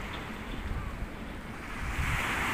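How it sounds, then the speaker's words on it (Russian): Winter sea waves wash onto a beach at high tide, a continuous broad rushing wash with some wind buffeting the microphone, swelling louder toward the end, with no voices. "Прилив, видите, какой."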